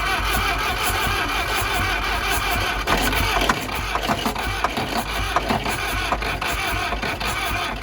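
Case 770 Gold Demonstrator tractor engine cranks with ether and the throttle maxed, giving a dense, rattling mechanical churn that stays loud and constant with irregular knocks and clatter.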